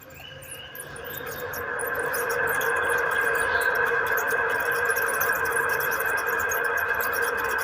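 A ceiling fan running on low power squeaks with a steady, continuous high-pitched squeal that builds at the start and then holds loud and unbroken, with no talking.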